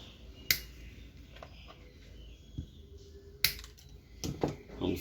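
Wire cutters snip off excess wire during a fuse replacement on a Mundial blender motor, giving a few sharp, close clicks spaced apart against quiet workbench background.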